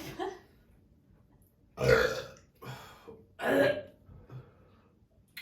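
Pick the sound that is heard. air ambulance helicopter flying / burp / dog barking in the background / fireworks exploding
burp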